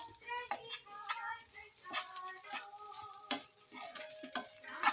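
Grated coconut roasting in a pan: soft dry sizzling with repeated scraping strokes of a spatula and light taps against the pan, fairly quiet and close.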